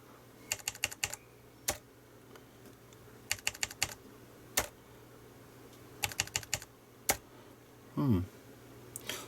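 Bursts of typing on an Amstrad NC100 keyboard, quick clusters of clicky keystrokes separated by pauses, with a few single louder key taps and a short electronic chirp near the end.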